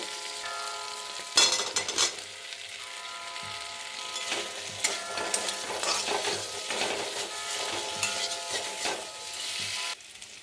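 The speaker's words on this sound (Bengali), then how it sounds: "এই অবস্থায় আমি ভাজা আলুগুলোকে দিয়ে নেড়ে চেড়ে নেব।" Fried potatoes are stirred into cooked spice paste in a pan for a potato dum, a soft steady sizzle broken by repeated close clanks and scrapes of the spoon against the metal.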